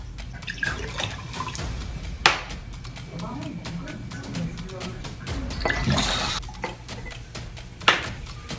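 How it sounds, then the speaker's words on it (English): Liquids, including salt water and oil, trickle and drip into four glasses in short bursts, with clinks and small knocks between pours, fairly quiet and close. "fill the 4 glasses with the same liquid in the tray"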